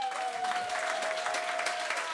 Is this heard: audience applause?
yes